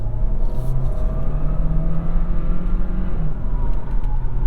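A 2022 Hyundai Tucson accelerates hard in sport mode on the road, a loud, continuous engine drone inside the cabin with a tone that climbs steadily, dips briefly as it shifts, then keeps climbing.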